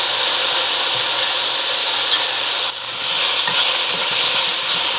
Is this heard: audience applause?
no